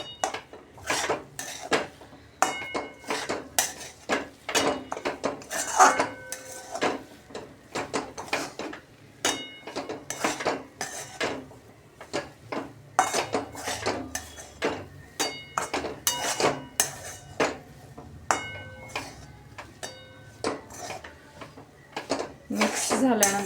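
A spoon mixing semolina in a metal pot or bowl: irregular, quick scraping clinks and taps of metal on metal repeating throughout, fairly close, with some faint talk in the background.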